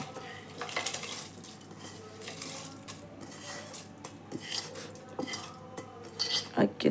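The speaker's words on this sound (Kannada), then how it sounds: "ಈ ಅಕ್ಕಿನ ಇದ್ರಲ್ಲಿ ಹಾಕ್ತಾಯಿದ್ದೀನಿ" Soaked rice going into a pot for South Indian tomato bath, with clinks of a utensil against the metal pot, soft scraping and stirring, and light sizzling in between, close and moderately loud, no talking.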